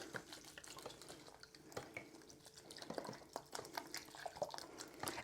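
Hydrogen peroxide poured over separated garlic cloves in a container, a steady trickle of liquid with scattered drips and small splashes close by, lasting several seconds with no talk.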